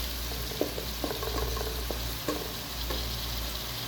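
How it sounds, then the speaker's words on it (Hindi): Onions frying in a pan for bhindi masala, a steady soft sizzle with occasional faint clinks and stirring taps over the hiss. "बस प्याज को हम पकाते हैं।"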